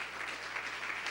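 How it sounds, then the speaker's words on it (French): Applause from a conference audience during a business talk session, a steady dense patter of many hands clapping with no pauses over the brief stretch. "vous pouvez l'applaudir"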